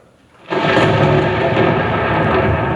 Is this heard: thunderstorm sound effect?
yes